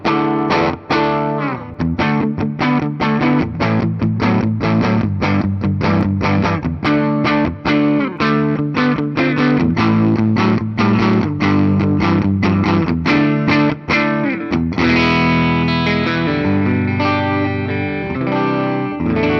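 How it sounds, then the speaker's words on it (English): A 2008 Gibson Les Paul Custom in ebony with three pickups, played through heavy distortion with chorus-like effects: loud, rhythmic strummed chords and riffs ring out continuously, ending in a sustained, shimmering chord. "This now becomes a regular Les Paul."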